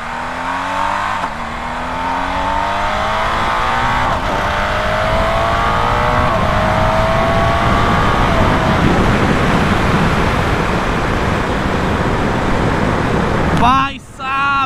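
A BMW 1250 GSA motorcycle accelerating at full power through first to fourth gear, its engine note rising in repeated climbing sweeps that give way to a loud, steady roar of engine and wind, close and sustained throughout.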